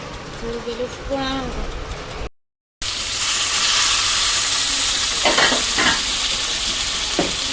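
Chicken sizzles and hisses in a hot pan, loud and close, with a stirring scrape and a brief voice early on before a short gap.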